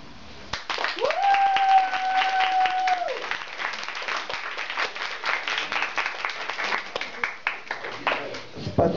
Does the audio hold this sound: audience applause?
yes